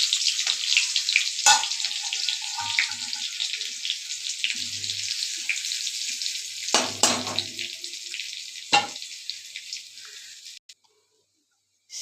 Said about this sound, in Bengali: আমি তেল দিয়ে দিলাম। একটা শুকনো লঙ্কা দিয়ে দিলাম ছোট, আর রসুন কুচি দিয়ে দিলাম থেঁতু করে।